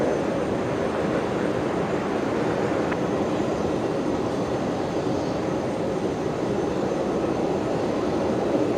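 A Qantas jet at Brisbane Airport, a constant loud broadband engine roar and rumble holding steady for the whole stretch with no speech.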